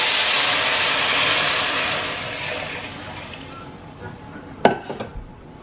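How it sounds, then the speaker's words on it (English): Broth poured into a soup pot for a fall soup, a rushing pour that fades over a few seconds, followed by a few sharp clinks of utensils against the pot. "So now I'm gonna add my broth."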